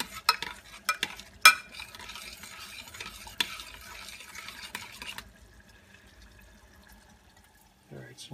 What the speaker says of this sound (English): And then we'll stir that up real good